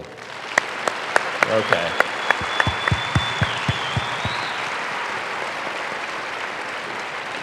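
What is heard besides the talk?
audience clapping loudly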